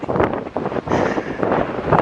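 Strong gusts of wind buffet the microphone at a campsite in a continuous, rumbling roar that surges and eases.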